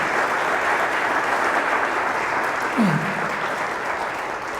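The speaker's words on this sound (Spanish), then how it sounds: "Denle un aplauso fuerte al Señor por eso." Strong, steady applause from a church congregation fills the space, loud and continuous throughout, with a brief voice-like tone rising in the middle.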